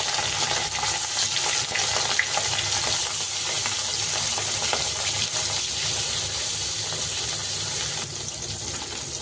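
Large katla fish belly pieces fry in hot oil with a loud, steady sizzle and occasional crackle throughout, close up and without speech.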